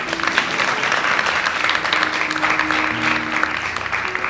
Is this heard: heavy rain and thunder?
no